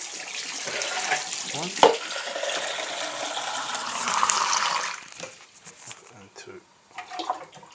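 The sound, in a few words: container being filled with tap water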